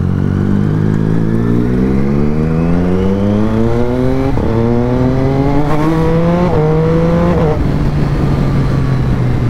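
A Triumph Street Triple motorcycle engine is ridden on the road. It revs hard through several rising pulls, each upshift dropping the pitch. The exhaust is loud and close throughout, with no talk.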